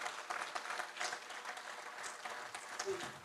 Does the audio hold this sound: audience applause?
yes